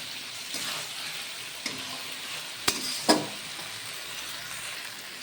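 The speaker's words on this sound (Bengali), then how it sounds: "ততক্ষণ পর্যন্ত এটাকে একটু এরকম করে ভাজতে হবে।" Chopped onion and garlic fry in a pan for a fish and cauliflower-potato curry, a steady soft sizzle with a few sharp spoon scrapes and taps against the pan.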